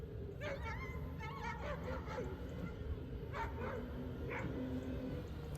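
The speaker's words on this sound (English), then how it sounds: "my family's dog barking from much further off in the distance" A family dog barks and yips from far off, repeated bursts of barking sitting faintly over a steady low rumble of background noise.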